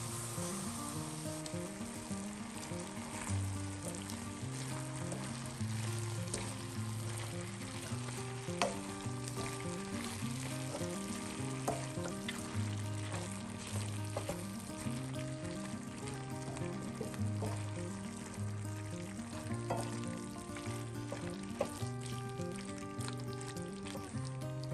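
Pork and potatoes cooking in a covered frying pan over medium heat: a soft, continuous sizzle and bubbling of released vegetable juices, running steadily under background music.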